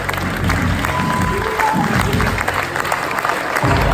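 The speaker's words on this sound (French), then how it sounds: "On peut applaudir bien fort." An audience at an awards ceremony applauds the international prize winners, sustained crowd clapping rolling on throughout with a faint murmur of voices mixed in.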